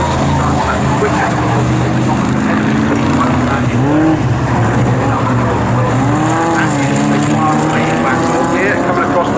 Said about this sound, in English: coming across the line now comes the 45 car of Parsons, leading his class